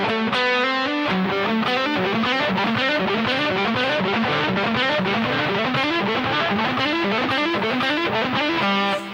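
Distorted electric guitar with effects rips through a rapid repeating lick, picking three notes and hammering on three more per string pair, in a pattern that climbs in steady, relentless cycles, loud and close throughout.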